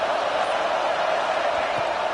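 A college football stadium crowd roars in a dense, sustained wash of noise that holds steady for a couple of seconds.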